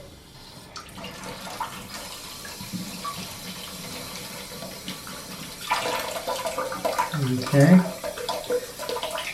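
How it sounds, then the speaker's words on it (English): Water from a flushed-out toilet fill valve gushes into a cup, a steady rush that grows louder and splashier toward the end, with a brief spoken word early on. "I'm also going to now turn the water on, and water is going to come gushing out of this."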